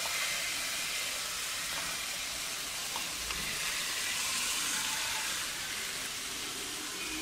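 Chopped winter vegetables sizzle steadily in a pan of fried spice paste, a continuous close hiss and crackle with faint stirring, no voices.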